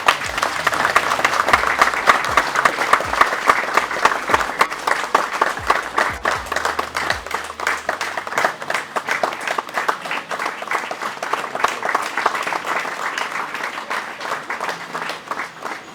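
An audience at a public HIV awareness event claps to welcome a deputy president and his entourage, a sustained, even roar of applause from a large crowd lasting the full sixteen seconds.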